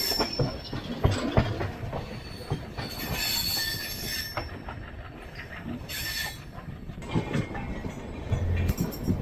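A Konkan Railway train rumbles through a tunnel with squealing wheels and rhythmic rail clatter, loud and enclosed, metallic screeches rising and fading throughout.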